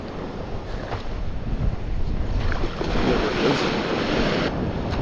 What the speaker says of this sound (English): Oh, there's that big wave.